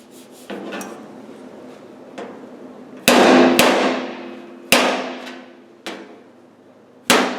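A hammer strikes metal at irregular intervals, some taps light and others loud and ringing, each blow decaying with a metallic shimmer.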